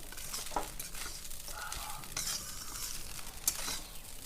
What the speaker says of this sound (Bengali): দেওয়ার পরে ভালো করে এটাকে একটু নাড়াচাড়া দিতে হবে।